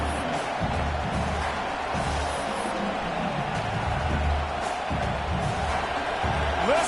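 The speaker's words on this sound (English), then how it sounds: "Listen to this crowd just shaking the girders of this place, trying to help their defense." Stadium crowd at a college football game against Oklahoma, a steady loud roar with cheering swells filling the whole stretch, close and sustained, with some faint voices mixed in.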